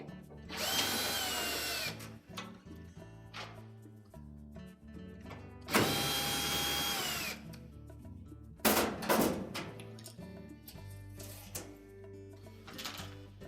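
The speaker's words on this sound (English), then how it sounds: "next we'll remove two screws from the opposite side of that front panel" A power drill backs screws out of the front panel of a Whirlpool dryer, with three loud whirring bursts of a few seconds each, close by, separated by handling clicks and rattles of loose parts.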